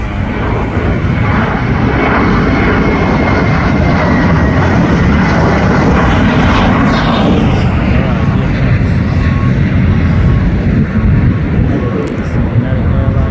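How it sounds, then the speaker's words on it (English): A United Airlines Boeing 787 arriving from Tokyo Haneda lands at LAX, its jet engines producing a loud, steady, broadband roar that fills the whole stretch without letting up. "United Airlines from Haneda here, landing here at LAX in Tokyo."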